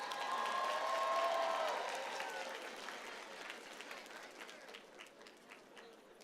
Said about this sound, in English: So, round of applause for Alexis.